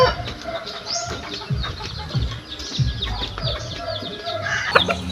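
Chickens cluck and flutter their wings in a noisy rural yard, with a few louder squawks near the end over steady background clatter and faint voices.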